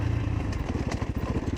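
A Beta RR 125 LC enduro motorcycle runs up close, giving a rough, steady engine rattle with a fast pulsing beat for a second and a half.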